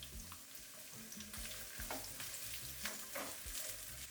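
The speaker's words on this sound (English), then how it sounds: "cook these onions until they start getting some color" Diced onions sizzle steadily in a preheated pan with avocado oil, a continuous close frying hiss broken by occasional stirring scrapes, with no voices.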